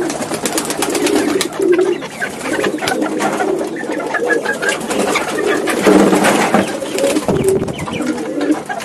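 Several collared doves coo steadily in a backyard aviary of more than a hundred birds, with overlapping close and distant calls over a dense bed of chirps and flutter, and no talk.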